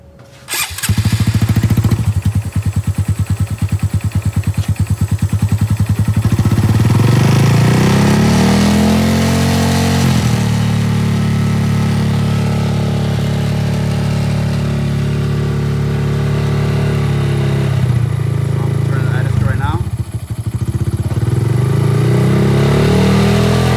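A Honda Grom motorcycle with a newly installed idle adjuster screw cranks and fires up, then settles into a loud, steady single-cylinder idle with a brief dip and recovery partway through, close by and with no talking.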